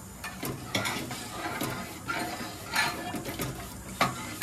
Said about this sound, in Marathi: कड ना असं ढवळत राहायचं तिला.